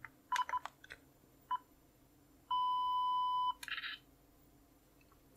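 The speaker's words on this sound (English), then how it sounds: "Let's just use the timer." A camera self-timer gives a few short electronic beeps, then a longer sustained tone and a brief burst, close and fairly quiet with no talking.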